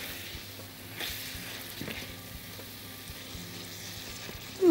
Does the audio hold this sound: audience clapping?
no